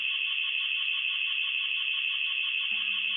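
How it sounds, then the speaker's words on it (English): A security alarm rings as a continuous, shrill, piercing electronic tone, loud and unbroken throughout, with a faint low hum joining near the end. "The security alarm."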